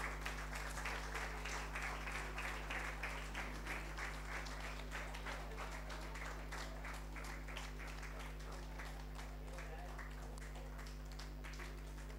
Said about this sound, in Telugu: చప్పట్లు కొట్టండి అందరూ